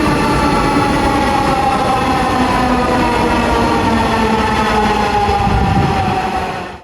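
A metro train pulls into an elevated station platform, with a loud, steady rumble and rising and falling tonal whine. Wind adds to the noise, and the sound fades slightly at the very end.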